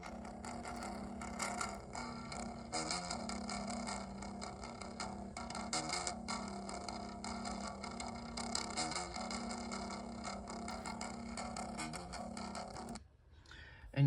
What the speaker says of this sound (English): the bass is that distorted bass tone